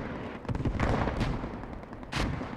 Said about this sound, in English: There is a smoke barrage going down now.